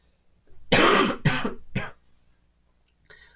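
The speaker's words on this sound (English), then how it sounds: "I am still dealing with this cough like a month later after being sick" A few harsh, close coughs in quick succession, loud and raspy, followed by a faint shorter cough after a brief pause.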